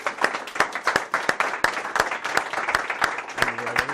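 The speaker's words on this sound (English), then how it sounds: "warm round of applause for Alex." Scattered audience clapping at a Boca Raton tech event, individual sharp claps in a loose rhythm, moderately near, with a voice speaking briefly near the end.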